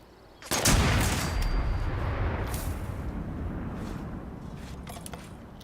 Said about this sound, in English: I'm not getting spotted with this 4-barreled giant rifle that's making like a cannon noise.